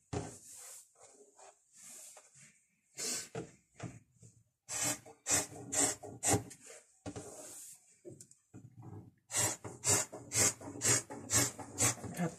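Fabric being cut with scissors for a plus-size 3XL kandora-style pajama, heard as repeated rasping snips in bursts with short pauses between them, close and fairly quiet.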